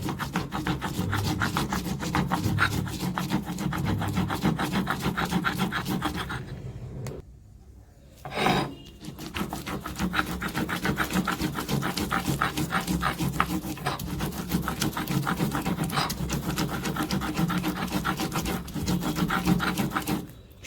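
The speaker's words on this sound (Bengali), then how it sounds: "সাদা সর্ষে অর্থাৎ আই সর্ষে আর কাঁচা লঙ্কাটা খুব মিহি করে বেটে নেব" White mustard seeds and green chillies are ground fine on a stone grinding slab, producing rhythmic, repeated rubbing and scraping strokes with a brief pause midway, close and fairly quiet.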